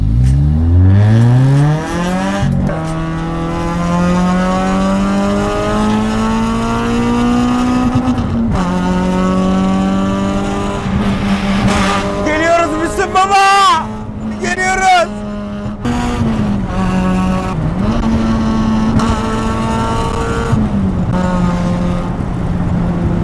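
A car engine revs up with a rising tone as the driver sets off, then holds a loud, steady drone with gear changes and pitch swings throughout, while a voice talks over it.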